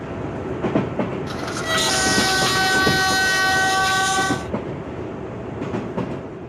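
A train runs along a desert railway track between Quetta and Taftan, where sand is cleared from the line. There is a steady rumble with sustained horn-like tones held for several seconds in the middle, loud and close, with no talk.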